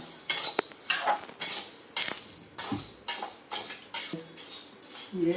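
Idli podi ingredients are dry roasted in a pan on a stovetop, with a spoon scraping and clinking against the metal in irregular strokes, moderately close and fairly quiet, with no voices.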